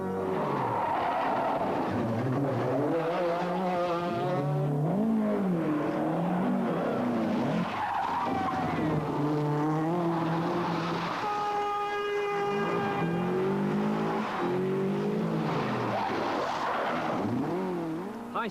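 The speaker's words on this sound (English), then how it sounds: "High-speed tarmac and the introduction of chicanes only fractionally slowing down the cars." Group B rally cars race flat out on sun-baked Isle of Man tarmac through chicanes at the 1986 Manx Rally, engines loud and continuous, revving up and down in sweeping pitch as the cars pass.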